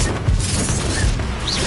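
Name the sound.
Confringo explosive spell cast in Hogwarts Legacy video game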